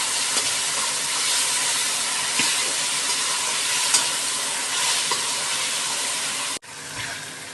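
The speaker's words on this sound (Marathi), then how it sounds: "टोमॅटो मीठ घालूयात चमचावर आणि छान परतून घेऊया" Tomato and onion sauté with salt in a pan, a steady close sizzle and hiss with soft scraping as a spoon stirs throughout, then a brief cut and the frying resumes.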